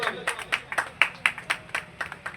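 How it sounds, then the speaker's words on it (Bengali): An audience at a village panchayat welcome ceremony claps in a loose, quick patter of sharp separate hand claps, moderately faint. "সকলে একটু জোরে হাততালি হবে"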